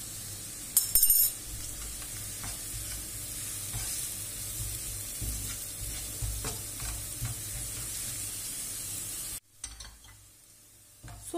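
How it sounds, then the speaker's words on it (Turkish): Steady sizzling of onions frying in a pan, with occasional clinks and scrapes of stirring, cut off briefly near the end. "Soğanları biraz kavuruyorum."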